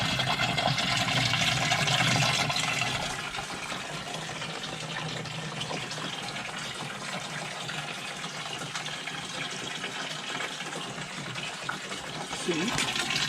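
Water gushes steadily through a domestic plumbing system being refilled after work near an Aga range, a broad continuous rushing that is loudest early on and settles to a constant flow, with occasional voices in the background.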